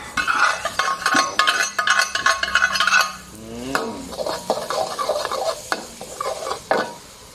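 Pounded curry paste is stir-fried in a pan with continuous sizzling and brisk scraping, clinking strokes of a spatula against the metal, close up and lively.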